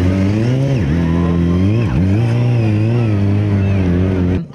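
Motorcycle engines rev loudly and close during a bikers' stunt show, a sustained throaty drone with two sharp dips and swells in pitch before cutting off abruptly at the end.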